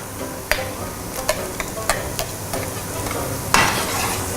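Chopped tomato frying with browned onions and spices in a pan, a loud close sizzle with repeated clicks and scrapes of stirring, swelling near the end.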